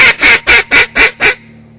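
Six short, emphatic goose calls blown on a goose call in quick succession, a greeting-style imitation of geese, loud and close with no talking.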